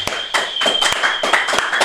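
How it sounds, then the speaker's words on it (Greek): A few people clap in a podcast studio after a poetry reading, with sparse, separate claps at an uneven rhythm, close and fairly loud. "Χειροκρότημα."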